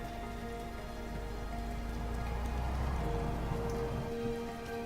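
Steady, even rainfall in Microsoft Flight Simulator 2024 hisses continuously with a low rumbling undertone, like a light drizzle pattering on surfaces, with no voices.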